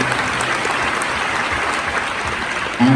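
An audience at a film premiere Q&A for The Laundromat at TIFF breaks into applause, a dense, steady wash of many hands clapping with no voices heard above it.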